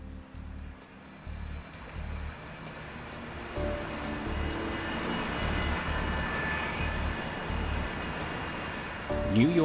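Airbus airliner of US Airways Flight 1549 heading toward the Hudson River, a steady broad jet-engine roar and rushing air filling the scene, rising slightly toward the end.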